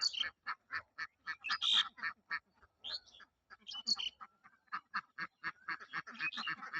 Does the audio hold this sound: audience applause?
no